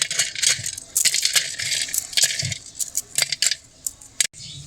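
Dried broken-rice lentil dumplings (khuder bori) being broken by hand for frying, a quick run of dry cracks, snaps and rattles, close and fairly loud, with no talk.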